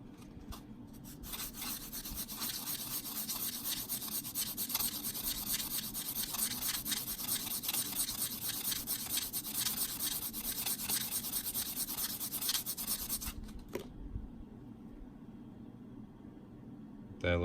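Sandpaper rubbing against a 1984 quarter coin ring, a continuous close scratchy rasp with quick back-and-forth strokes that stops abruptly near the end, leaving quiet.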